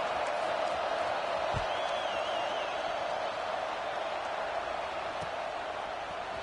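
Steady stadium crowd murmur in the PS5 video game College Football 26 after a touchdown and extra point, a broad even roar with faint whistling and scattered thumps, and no talk over it.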